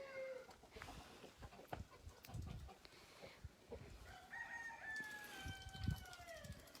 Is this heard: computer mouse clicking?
no